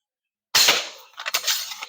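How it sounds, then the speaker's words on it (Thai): A slingshot fires an 8 mm ball at bottles on the left and right and a central target, giving one sharp loud snap and impact followed by a few rattling clinks, with no talk. "ผมยิงขวดนะครับสองด้านซ้ายขวาแล้วก็จะ ยิงตัว ตัวเป้าตรงกลางนะครับ"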